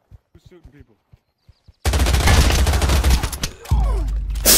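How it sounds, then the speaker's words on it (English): Video game gunfire aimed at players: a sudden, loud burst of rapid automatic shots that continues for several seconds with a brief gap. It follows a few clipped vocal sounds and hard clicks. "they tried to shoot us!"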